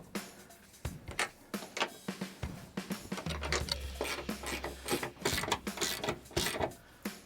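Nuts are worked loose and pulled from the top of a car strut, with irregular ratcheting clicks, metallic taps and scraping close by in bursts, no talk.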